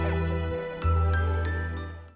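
A phone rings with a bright electronic jingle in a Hindi-dubbed horror movie scene, a tinkling tone that holds steadily and fades out, heard alone without talk.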